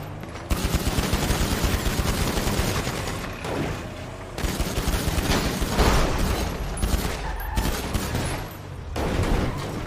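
Heavy gunfire in a GTA V NoPixel roleplay shootout, with dense bursts of rapid shots, brief lulls, then renewed volleys, loud and close throughout.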